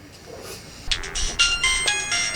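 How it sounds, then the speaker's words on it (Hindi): A mobile phone ringtone in a Maithili comedy scene, starting faint and then sounding as a loud, bright, repeating electronic tune for about a second and a half. "फोन आवे लगल"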